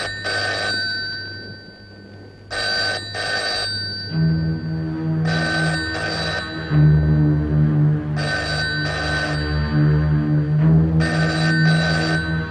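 An old landline telephone bell rings in repeated double bursts, loud and close, with a steady electrical hum running beneath and the rings continuing through the whole stretch.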